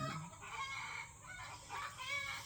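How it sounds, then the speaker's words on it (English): Chickens cluck and a rooster crows nearby, several overlapping calls rising and falling in a barnyard with no talking. "And the chickens are crowing because they know something's up."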